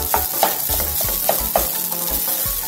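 Rice flour is stirred in a pan for a village-style sweet, with a utensil scraping in quick, regular strokes over a low sizzle, close and steady.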